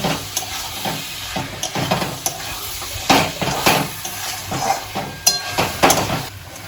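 Fried potatoes and lote shutki, dried Bombay duck fish, stirred together in a hot pan for a spicy chorchori, with repeated scraping spoon strokes and clinks over a steady sizzle, close and fairly loud.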